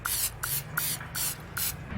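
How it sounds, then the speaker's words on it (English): Cooking spray from an aerosol can hitting a metal canteen cup: five or six short, loud hissing bursts in quick succession, close up, with no talking. "we're just gonna hit this guy with a little quick cooking spray."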